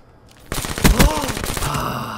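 Gunfire in a one-on-one ladder match of a shooter video game, a burst of several quick close shots partway through with ringing and a lingering tail, starting after a quiet half-second.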